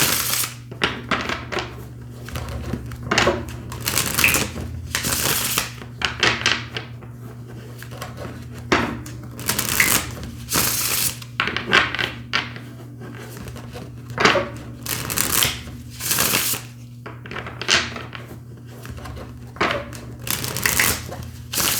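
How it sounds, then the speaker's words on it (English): Repeated papery riffling and soft slaps of tarot cards being shuffled by hand, in uneven bursts close to the microphone, over a low steady hum. "In today's reading, we will be shuffling on camera"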